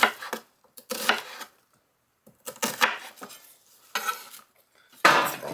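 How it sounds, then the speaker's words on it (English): A knife slicing onions into quarter-inch slices on a cutting board, heard as several bursts of chopping and clatter separated by quiet pauses, close and fairly loud, with no talk. "we're just going to slice them. I'm going to put them about 1/4 inch slices."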